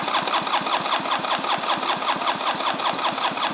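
A 2002 Polaris Virage TXi 1200 personal watercraft engine cranks over on the starter during a compression test on the magneto side, a steady, loud, rapid rhythmic chug of compression strokes running throughout without ignition.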